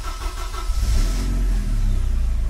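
A Porsche 944 Turbo engine fires up, a steady loud low rumble with a brief rise as it catches and then settles into a strong, even running note, close by with no talk.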